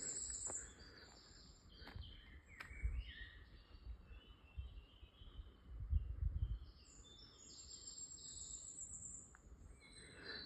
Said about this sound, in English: Blackbird singing.